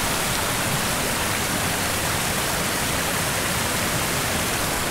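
Waterfall in the Elan Valley pours as a loud, steady broadband roar of rushing water, close by and continuous without a break, with no voices over it.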